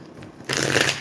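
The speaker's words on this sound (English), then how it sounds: "I'm going to shuffle the deck 5 times." A tarot card deck is shuffled once, a quiet rustle that bursts into a loud, close riffling flutter lasting about half a second, with no talking.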